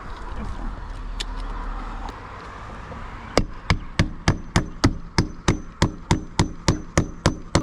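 A DeWalt roofing coil nailer fires a steady series of about a dozen sharp, loud nail shots at an even quick rhythm, close by, after a few seconds of background noise.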